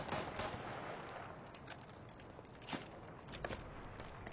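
Gunfire in a Killzone Shadow Fall online multiplayer match, with an M55 Rumbler in play: a faint, muffled run of shots and impacts under a steady game-noise bed, with a few sharper cracks.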